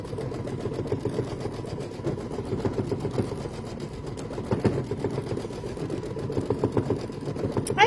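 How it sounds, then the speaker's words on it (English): An embroidery machine stitching the wing fill of a bee coaster: a steady, fast mechanical whir and rhythmic needle chatter, close and continuous. "it is going to do the fill stitch for the wings first and then do an outline stitch."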